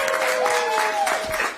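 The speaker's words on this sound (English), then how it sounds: "Big round of applause for our caregivers." A brief, steady burst of crowd applause greets in-home caregivers at a gathering, with a faint tonal sound and a murmur running through the clapping.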